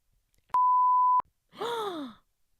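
A single steady censor beep bleeps out a word in casual Québécois French conversation. It is loud, flat and lasts under a second, and a short voiced sound follows it.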